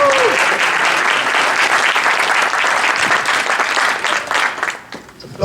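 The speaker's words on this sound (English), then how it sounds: "join me in giving them a round of applause" A conference audience applauds the event organizers, steady dense clapping that fills the room loudly, then thins and fades near the end.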